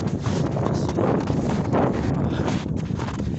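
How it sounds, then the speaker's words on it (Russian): Cold wind gusting over packed snow in deep frost, a continuous loud rushing buffet against the microphone throughout. "Вот снег плотный и сразу ветер."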